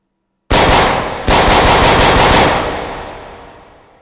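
Automatic gunfire in the VR shooter Hot Dogs, Horseshoes & Hand Grenades: a loud, close single shot followed after a pause by a rapid burst of rounds, each crack echoing and the reverb tailing off slowly.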